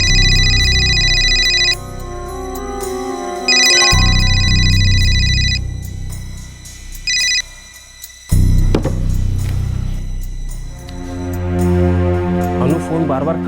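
A phone rings in repeated electronic bursts that stop and start, with gaps between them and background music and sound effects underneath.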